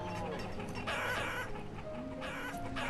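Chickens clucking in the village-building video game Banished, a steady flock of clucks layered over continuous ambient game sound for about three seconds, without talk.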